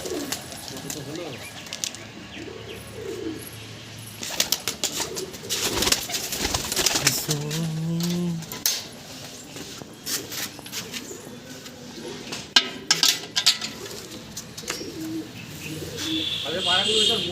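Pigeons kept as high-flying birds coo repeatedly in soft, rolling calls at close range, overlapping one another with some rustling and light background noise.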